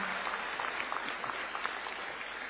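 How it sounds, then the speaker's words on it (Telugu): Audience applause at a public gathering in Singapore: a dense, steady patter of many hands clapping, fairly distant and even throughout. "చప్పట్లు కొట్టి అభినందించండి"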